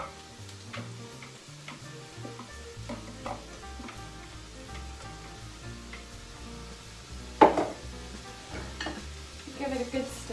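Celery and grated carrot fry in a pan for a vegan three bean chilli, a steady soft sizzle with occasional stirring scrapes and one louder clatter of utensil on pan partway through.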